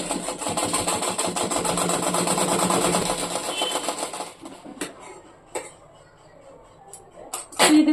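Sewing machine stitching along the belt of a gathered panel skirt, a dense steady mechanical whir running for about four seconds, then stopping, leaving a few light clicks and handling knocks.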